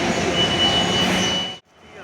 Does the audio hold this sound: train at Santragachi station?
yes